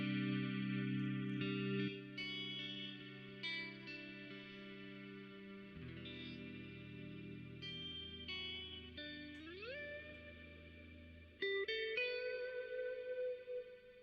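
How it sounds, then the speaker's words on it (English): An electric guitar runs through a heavy reverb pedal, sustained chords and single notes blooming into long washy tails, with a slide into a higher note, played alone and fairly quietly. "if I were to put a lot of reverb, this is my heavy one"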